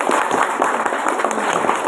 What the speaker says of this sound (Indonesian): tepuk tangan buat pengacara